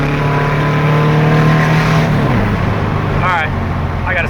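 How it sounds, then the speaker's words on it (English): A 2-liter car engine fitted with 44 IDF carburetors running on 125 jets, revving hard with a loud, strained drone that holds high and then drops, with a voice briefly breaking in near the end. "I even hit the rev limiter"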